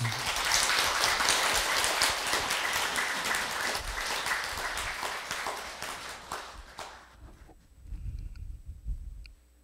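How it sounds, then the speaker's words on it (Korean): Sustained applause from a congregation at a Buddhist dharma service fills the room, steady and dense for about seven seconds before dying away into quiet with a few low thumps. "박수 한번 올리겠습니다"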